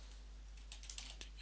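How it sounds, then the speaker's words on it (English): Quiet computer keyboard typing, a few soft key taps near the end over a steady low electrical hum, with no talking. "now I am going to go ahead and type in about"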